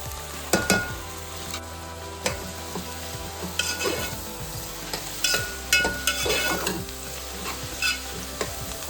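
Mint leaves sizzle in a pan for ghee rice, with steady frying hiss and repeated close scrapes and clinks of a spoon against the pan as they are stirred.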